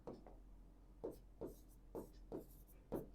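Chalk or marker strokes on a classroom board during a maths lesson, a series of short scratchy taps and scrapes in a quick uneven rhythm, close and fairly quiet over low steady hum.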